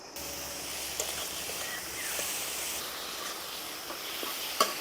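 Prawns fry in a pan, cooked until their released water has dried off, giving a faint, steady sizzling hiss with a few light clicks and stirring taps.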